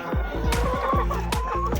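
Chickens in a poultry house cluck repeatedly in overlapping, close bursts, with a rooster-like call mixed in, loud and busy with no speech.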